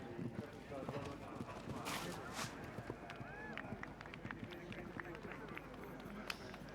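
A horse gallops at Badminton's eventing cross-country course past brush fences, its rapid hoofbeats running steadily under a commentator's voice and faint crowd noise.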